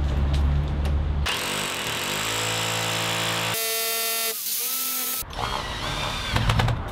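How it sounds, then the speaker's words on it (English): A loud, large power drill boring a hole in a wall runs continuously, its motor pitch rising and shifting as it bores in, then cuts off briefly before revving again. "Then I break out the beast for drilling the real hole."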